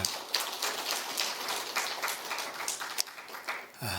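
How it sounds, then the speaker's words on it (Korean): A congregation at a Sunday church service applauds, giving sustained, dense clapping from many hands that sounds like a patter of rain. It holds steady at moderate level and cuts off abruptly near the end. "우리 하나님께 감사와 영광의 박수 올려드리겠습니다."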